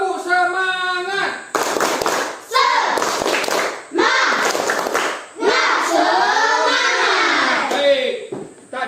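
A classroom of schoolchildren performs a rhythmic spirit clap, sharp bursts of clapping alternating with short chanted phrases from the children, loud and close, with pauses between the patterns.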